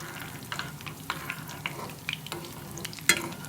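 Cinnamon pieces, a black cardamom pod and cumin seeds sizzle gently in hot oil over low heat, with soft stirring scrapes and a few sharper clinks over a steady fry.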